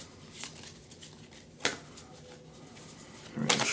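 A tarot card deck is shuffled by hand, heard as a few soft riffling bursts and light card flutters close by. The sounds come in brief, irregular spurts over a quiet room background.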